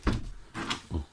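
A bedroom door in a Devonshire house being opened, with a few short knocks and clunks of the latch and wood close by, no talking.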